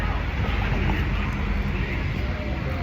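Steady roar of nearby street traffic, a constant broadband rumble with no distinct passing vehicles, filling the whole moment.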